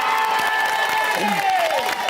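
A studio audience on the Big Brother UK 2014 spin-off show applauds and cheers loudly and continuously, with shouts and a musical sting sliding through the noise.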